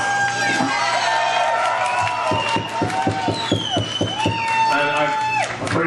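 Crowd at an American Wrecking Company CD release party whoops, shouts and cheers amid scattered clapping, with overlapping voices and rising yells, lively and close throughout.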